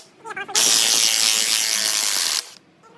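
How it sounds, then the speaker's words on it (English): A powerful impact gun with a 30 mm 12-point socket loosens the CV axle bolt on a Toyota Sienna, giving one loud, close, sustained rattling burst of about two seconds between short remarks from a person. "then open the CV axle bolt"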